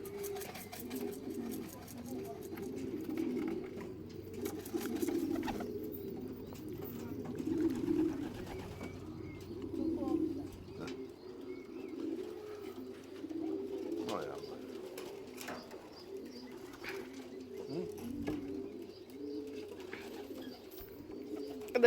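Doves cooing on a roof, soft repeated low coos in rolling phrases, close and steady, with occasional faint chirps and small clicks in the background.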